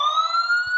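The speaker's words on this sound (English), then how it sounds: "Yeah, this is alarm." An alarm siren effect wails steadily and loudly with a bright rising tone, alone, briefly cut at the very end by a faint thump.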